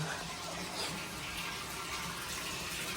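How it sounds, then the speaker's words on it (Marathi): A rooftop water tank filling from a pump motor, with water rushing and splashing steadily and loudly in a continuous, even stream close by. "चला आता टाकी भरत आली आम्हाला जावं लागेल खाली मोटर बंद करण्यासाठी"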